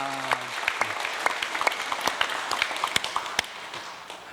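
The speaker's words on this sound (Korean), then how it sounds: "우리 감사의 박수 한번 하십시다. 격려의 박수 하십시다" Scattered clapping from a small church congregation after a hymn, uneven and moderately loud at first, then thinning out and fading toward the end.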